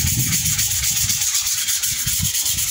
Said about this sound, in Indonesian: Kita akan amplas guys, bagian pengamplasan yang nomor 400 ya.